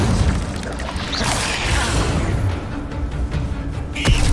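Casting the Incendio fire spell in Hogwarts Legacy unleashes a roaring, rumbling blast of flame that lasts about four seconds, loud and dense, with a short bright ping and impact near the end.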